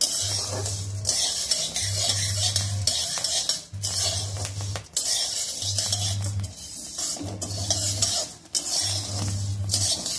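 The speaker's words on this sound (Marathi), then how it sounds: "आपले हे गहू असे भाजत आलेले आहेत, थोडेसे लाल झालेत।" Spoon stirring wheat dry-roasting in a pan for thalipeeth bhajani, repeated scraping and rattling strokes in a steady rhythm, close and loud.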